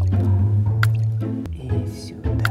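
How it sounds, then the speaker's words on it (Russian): A few drops of a liquid secret ingredient drip onto food, heard as brief soft drips over a steady low hum. "А вот и секретный ингредиент. Буквально пара капель,"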